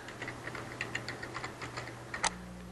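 Quick, light keystrokes tapped on a computer keyboard in a classroom, a short run of soft, evenly spaced clicks close by with no voices.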